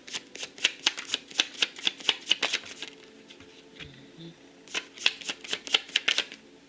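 Cards being riffle-shuffled up close, a quick run of crisp flutters, a brief pause with soft handling, then another rapid burst.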